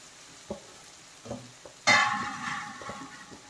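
Boiled dal poured into a hot pan during village-style Bihari dal ki dulhan cooking: a few soft utensil knocks, then a sudden loud sizzle that fades slowly into a steady crackling fry, close by.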